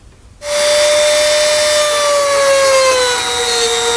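Plastic bumper fascia on a 2019 Jeep Grand Cherokee is trimmed to clear a wiring bracket. A loud, high-pitched cutting tool whines steadily, and its pitch slowly drops as it bites in.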